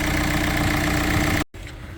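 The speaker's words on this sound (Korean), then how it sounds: "엔진은 뭐 주행거리가 많아서 많이 걱정을 했는데 그다지 나쁜 편은 아니고요" A high-mileage 2009-built Hyundai Tucson ix engine idles with a steady, even drone close up, then cuts out abruptly for a moment before resuming more quietly.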